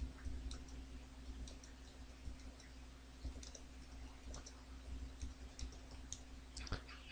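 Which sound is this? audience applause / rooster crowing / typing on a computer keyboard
typing on a computer keyboard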